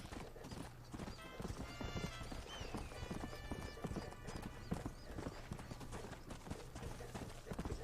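Rapid hoofbeats of a galloping horse in the video game Red Dead Redemption pound steadily throughout, with a brief whinny partway through, all at a fairly even, moderate loudness.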